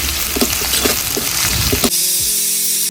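Two small onions drop into hot oil with whole spices, giving a busy crackling sizzle that suddenly shifts to a smoother, steadier fry partway through, close and loud with no talking.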